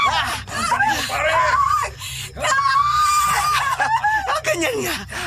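A person screams in distress during a violent assault, loud sustained cries that break and resume amid other voices shouting and laughing close by.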